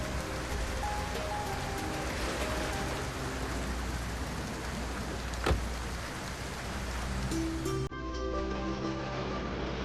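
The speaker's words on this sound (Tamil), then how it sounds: "இந்த மழை நிக்காது போல இருக்கே" Heavy rain pours in a continuous, dense hiss throughout, with soft tonal music running faintly beneath it and one brief sharp knock midway.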